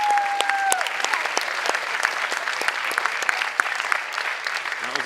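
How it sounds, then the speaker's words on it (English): Audience applause at a Rubik's cube WCA European Championship, a dense steady burst of many hands clapping throughout, with a brief electronic tone at the start. "There we go, there's the claps."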